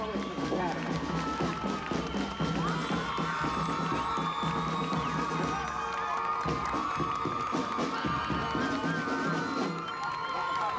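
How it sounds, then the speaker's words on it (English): A street parade crowd at a St. Patrick's Day parade in Philadelphia cheers and claps as a school marching band passes, with shouts and whoops over busy outdoor noise and steady background commotion. "Another round of applause"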